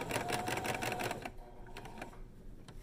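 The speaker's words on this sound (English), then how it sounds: "I'm sewing right next to the pin" A sewing machine stitches a fabric face mask close beside a pin, giving a quick, close run of rapid needle clatter for about a second before slowing to softer, scattered ticks.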